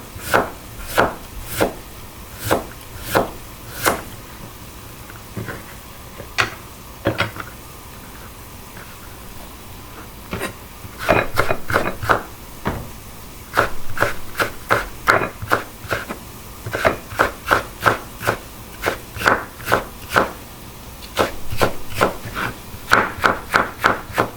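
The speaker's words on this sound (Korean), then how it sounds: "그래서 오이를 채를 썰어서 준비해 줄게요" A knife julienning cucumber on a wooden cutting board for spicy bibim noodles, rapid crisp chopping taps in quick runs broken by short pauses, close and clear with no talk.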